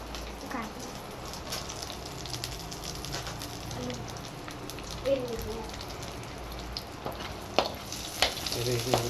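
Mustard seeds and curry leaves sizzle steadily in hot oil for a Tamil-style tempering, a constant close frying hiss with scattered pops and crackles and a few louder spits near the end, with faint voices in the background.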